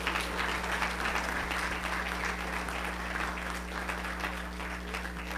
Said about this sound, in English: Let's give Terrence and Bernadette Dorsey a round of applause.